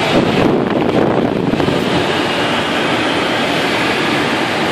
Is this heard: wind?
yes